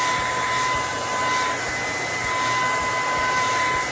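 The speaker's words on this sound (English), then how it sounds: "Then you're gonna go for your dryer." A hair dryer on high heat blows steadily and loudly throughout, a constant airy whoosh with a faint high whine, no speech.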